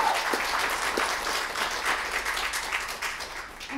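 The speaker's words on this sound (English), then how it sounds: "clap for being here" Studio audience on a talk show applauding a guest, a steady, moderately loud wash of clapping that tapers slightly toward the end.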